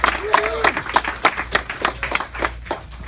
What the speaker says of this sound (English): let's give a round of applause to Jeff for the comic